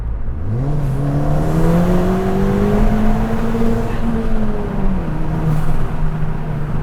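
A stage 2 tuned Ford Fiesta ST engine, around 250 bhp, climbs quickly in revs and holds a loud, steady high-pitched drone against the rev limiter for a few seconds, then eases off slightly.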